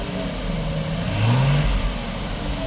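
A low-mileage Jaguar XJS engine revs briefly, its note rising and falling over a steady idle, close and fairly loud.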